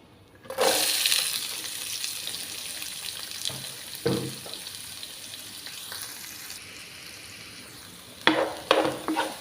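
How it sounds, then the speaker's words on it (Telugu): Onions hit hot oil with mustard seeds and cumin for an aloo curry, bursting into a loud sizzle that settles to a steady fry, with clattering stirs near the start and again at the end. "మంచిగా అన్నీ కలిసిలా వేయించుకోవాలండి"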